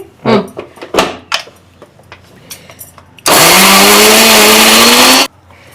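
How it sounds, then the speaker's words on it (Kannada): After a few knocks and handling sounds, a mixer grinder grinding roasted spices and lentils for moringa chutney whirs loudly for about two seconds, its motor pitch climbing steadily, then stops abruptly. "ಈಗ ಹುರಿದಿರೋ ಎಲ್ಲಾ ಐಟಮ್ಸ್ ಇದಕ್ಕೆ ಹಾಕೊಂಡು ಮಿಕ್ಸಿ ಮಾಡ್ತೀನಿ"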